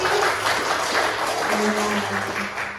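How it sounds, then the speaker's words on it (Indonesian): A primary-school class applauds a student group, a steady wash of clapping that continues evenly throughout, with faint voices murmuring underneath. "Tepuk tangan atau kasih aplaus untuk kelompok kiri."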